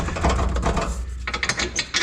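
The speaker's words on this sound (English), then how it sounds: "can we remove the bolt entirely?" Bolt removed from a Cusco reinforced differential carrier on a Subaru WRX STI gives close, quick metallic ratcheting clicks in short uneven bursts with brief pauses.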